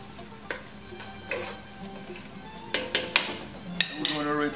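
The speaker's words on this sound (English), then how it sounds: "We're going to stir it again." A spoon scrapes and clinks against a pot of zaalouk with chopped cilantro and parsley, making sparse metallic taps that grow into a quick burst of clinks near the end, heard up close over a quiet background.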